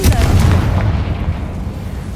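A Confringo blast spell goes off in Hogwarts Legacy, a loud booming burst that rolls into a low, rumbling decay over about two seconds, with no voices.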